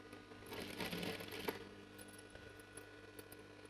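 A sewing machine stitches piping onto a kameez, giving a faint, steady mechanical whir with light clicking that runs without pause and peaks briefly midway.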